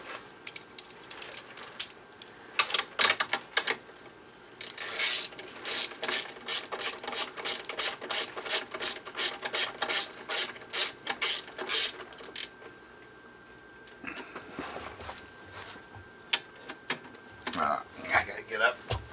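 Socket ratchet clicks in rapid bursts while Kuryakyn foot pegs are tightened down on a 2018 Honda Goldwing, close and fairly loud, the ratcheting running through most of the stretch with brief pauses.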